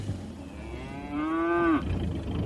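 A cow moos once in a 1980 BBC radio drama set in the fens, a single drawn-out low call that rises slightly and then cuts off, heard clearly over faint background hum.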